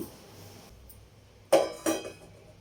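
Metal pot set down on a lit kitchen stove for tomato rasam, heard as two close metallic clanks a moment apart after a quiet stretch.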